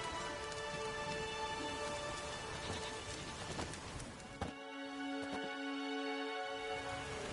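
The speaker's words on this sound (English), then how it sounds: "There's no point standing here in the rain." Steady rain falling in The Witcher 3: Wild Hunt on PlayStation 4 Pro, a constant close hiss that thins partway through, leaving a brief tonal hum with a few soft knocks in the background.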